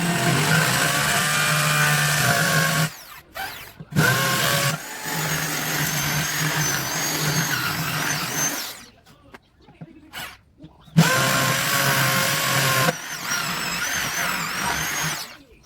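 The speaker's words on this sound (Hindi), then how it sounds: "तो चलिए छेद करते हैं इसमें। ये मेरे पास ड्रिल मशीन है।" A power drill bores holes into a bonsai pot, its motor whining steadily in long runs that stop and restart several times, with brief quiet gaps between bursts.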